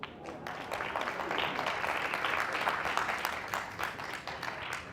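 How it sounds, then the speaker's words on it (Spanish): Audience applause with many overlapping claps, building slightly and then tapering, fairly close and moderately loud, with a faint voice underneath. "A quien lo dijo, un aplauso"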